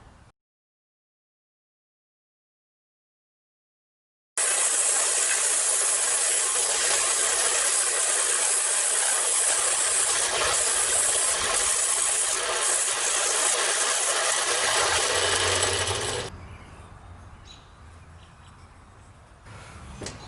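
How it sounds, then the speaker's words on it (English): A belt sander on concrete: a loud, steady abrasive grinding roar runs continuously for about twelve seconds after a silent start, then drops to a quieter hum. "this is where our handy-dandy little belt sander really shines"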